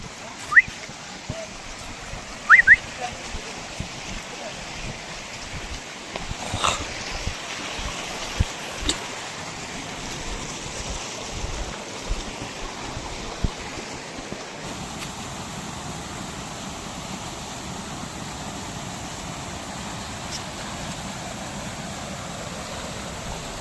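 The small, slippery Resham Khola mountain stream flows with a soft, steady rush while it is crossed, broken by a few faint splashes and knocks.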